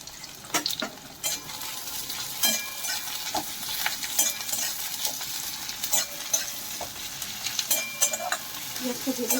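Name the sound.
onions frying and being stirred in oil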